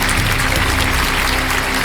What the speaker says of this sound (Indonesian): Tepuk tangan buat Bang Dama.